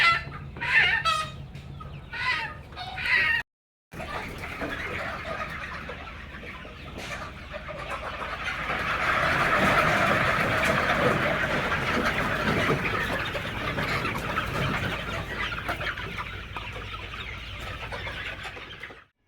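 Chickens at a poultry farm raising hybrid naked-neck parent stock cluck and chatter in a dense, continuous flock, with a few louder calls early and a brief gap before the crowd noise swells and settles.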